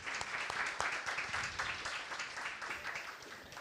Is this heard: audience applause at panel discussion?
yes